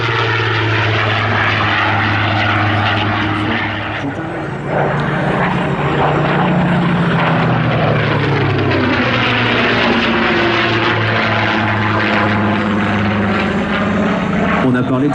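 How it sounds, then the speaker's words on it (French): Spitfire fighter plane roaring past at an airshow at Melun-Villaroche, a loud, sustained propeller engine drone that swells and shifts in pitch as it passes, with a voice talking over it. "c'est précisément le Spitfire qui vous est présenté aujourd'hui."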